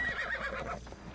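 A horse in the video game Assassin's Creed Odyssey gives a short whinny lasting about a second, fairly close, with no talking over it.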